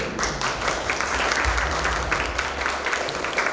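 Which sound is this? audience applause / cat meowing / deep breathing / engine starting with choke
audience applause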